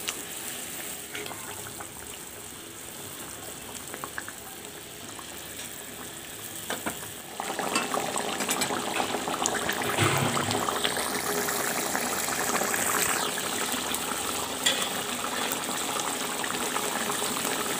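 Pangas fish pieces going into a pot of boiling water, a steady bubbling hiss that grows louder and fuller as the fish splashes in, close and continuous with no talk.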